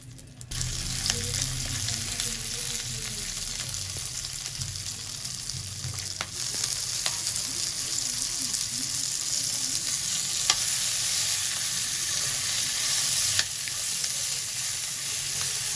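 Green chillies frying in a spoonful of hot oil produce a continuous, close crackling sizzle that swells after the first few seconds, with occasional sharp pops and light utensil knocks.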